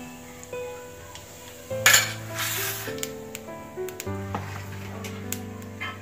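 Mustard seeds, cumin and a pinch of asafoetida hit hot oil while making Gujarati chora dhokli, giving a short, bright sizzling burst that fades quickly under steady background music.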